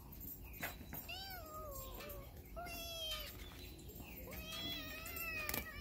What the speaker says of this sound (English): that's Maya meowing.